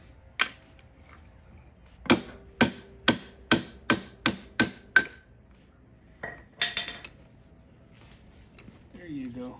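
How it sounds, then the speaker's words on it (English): A screwdriver tapping a stuck part out of the top end of a 1991 Honda XR250L during disassembly: a first metallic knock, then a rapid run of seven evenly spaced clinks, followed by scattered softer taps and a brief voice. "I think I'm gonna have to tap out the rest of the way with like a screwdriver."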